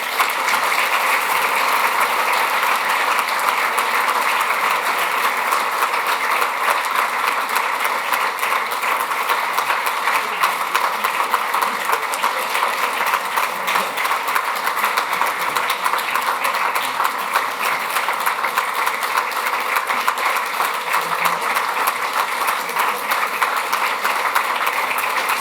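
Sustained, dense applause from a conference audience honouring a retired judge, a continuous roar of many hands clapping at steady loudness for nearly half a minute with no speech over it.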